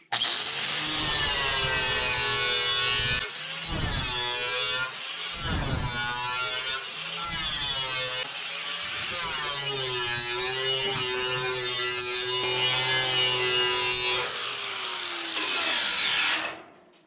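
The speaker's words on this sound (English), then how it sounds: "I could just take this grinder and grind that edge off." An angle grinder grinds the metal edge of a classic Ford Mustang cowl panel, loud and close, with a continuous whine that rises and dips as the disc bites, briefly cutting out several times before running on to the end.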